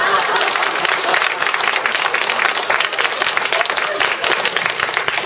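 Sustained audience applause fills a Korean Buddhist dharma lecture hall, dense clapping from many hands steady and loud throughout with no break.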